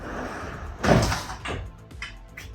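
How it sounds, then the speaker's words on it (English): Hinged doors opening and closing on a catch mechanism, heard as a firm thunk of the door meeting its catch followed by a few softer clicks and knocks, close by with no talk. "The opening and closing mechanism works on the catch, so it's really easy and easy to use."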